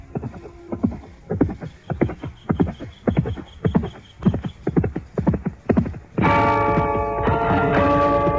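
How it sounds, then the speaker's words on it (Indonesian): Galloping horse hoofbeats from a radio drama sound effect, a fast, loud, regular series of clip-clop beats, then a burst of bright ringing music takes over near the end. "tiba-tiba mereka dikejutkan oleh suara derap seekor kuda yang datang dengan cepatnya"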